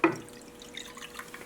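Brewed lactation tea poured into a small pot, a brief splashing trickle that fades to faint dripping, heard alone and close.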